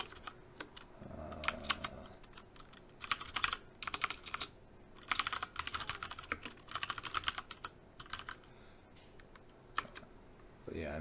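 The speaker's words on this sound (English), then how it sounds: "Typing all that manually." Steady computer keyboard typing runs in quick clustered bursts of crisp key clicks with brief pauses between them, close-miked over a faint background hum, with a voice speaking softly at times.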